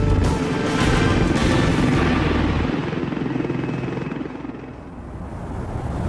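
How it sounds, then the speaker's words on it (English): A rescue air ambulance helicopter flies nearby during a callout to an injured hiker, its rotor thumping and engine rumbling loudly, then slowly fading a little as it moves away. "So where's your helicopter?"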